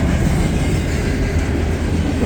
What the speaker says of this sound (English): Westbound intermodal with 200 some axles.